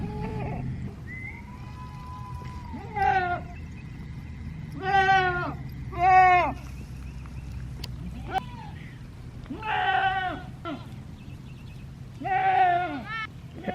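Goats bleating as they come in for milking on a small farm, several wavering calls spaced out across the stretch with low background noise and faint distant sounds between them.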